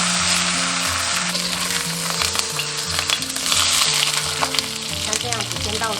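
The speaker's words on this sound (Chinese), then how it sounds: "我们沿锅边淋一圈料酒。" Crucian carp frying in hot oil in a wok, with cooking wine poured around the pan edge, gives a loud, continuous sizzle and crackle that stays steady throughout, with no talking.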